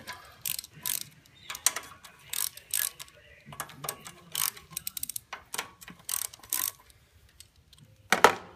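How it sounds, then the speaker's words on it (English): A ratchet backs out valve cover bolts on a Briggs OHV engine in quick bursts of rapid clicking, close and fairly quiet, separated by short pauses, with no talk. "I always take your two top bolts out first, out of your valve cover"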